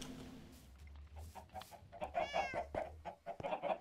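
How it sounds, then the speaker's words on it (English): Chickens in Minecraft give several short, repeated clucks that grow louder toward the end, over quiet game ambience. "Your chickens are driving me nuts."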